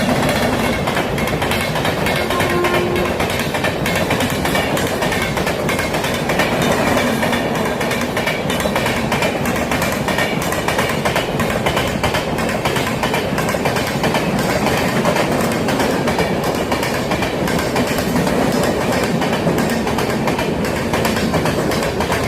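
A local suburban train runs near Chennai, its wheels rolling in a loud, sustained rumble with rhythmic clickety-clack over the rails and faint squeals, close and constant for the whole stretch with no talking.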